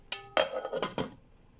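A metal pot lid clinks and clatters as it is set down and settled onto a pan of milkfish sinigang set to boil, a few bright close-up knocks, then quiet.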